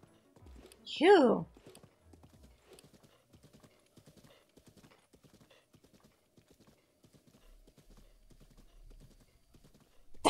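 A horse in The Legend of Zelda: Breath of the Wild whinnies loudly once near the start, then its hooves beat a steady, quick clip-clop rhythm that continues at a moderate level to the end.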